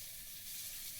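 Pointed gourd frying in oil with salt and turmeric, a steady, close, bright sizzle that holds evenly throughout.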